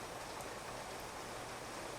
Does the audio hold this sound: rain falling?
yes